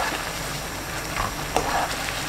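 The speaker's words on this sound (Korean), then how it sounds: "소스가 끓기 시작하면 후추 한 꼬집" Butter cream sauce with shrimp coming to a boil in a pan, a dense, even hiss of bubbling and sizzling, loud and close, with a couple of faint clinks and no speech.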